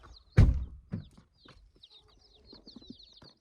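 Newly bought Yokohama chicken chicks in a box give a few faint, high chirps after a loud opening thump, with soft knocks and shuffling around them.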